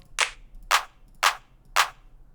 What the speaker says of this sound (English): let's look for a clap